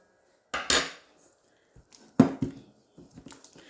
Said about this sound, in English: we're gonna mix this together until it is really, really smooth